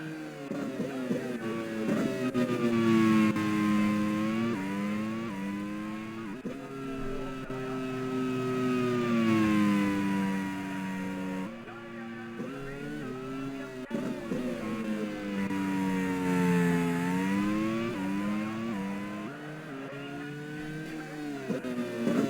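Racing video game car accelerating hard around the Anderstorp circuit, a loud continuous engine note rising and falling through gear changes across the whole stretch, with no talk over it.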